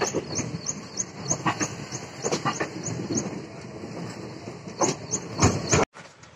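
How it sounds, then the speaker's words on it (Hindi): The Anand Vihar–Malda Town Express pulls out of Pratapgarh Junction station toward Varanasi with rhythmic wheel clatter, hissing and repeated metallic clanks close by, before the sound cuts off abruptly near the end. "आनंद विहार मालदा टाउन एक्सप्रेस जो कि आज अपने निर्धारित समय पर प्रतापगढ़ पहुंची और निर्धारित समय से ही यहां से वाराणसी की ओर रवाना हो रही है"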